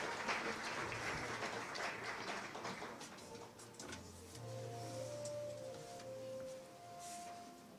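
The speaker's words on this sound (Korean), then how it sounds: "따뜻한 박수로 환영 부탁드리겠습니다" An audience at the opening ceremony of an AI global forum applauds to welcome the science and ICT minister to the stage. Steady, fairly soft clapping continues throughout, with sustained electronic tones sounding alongside it.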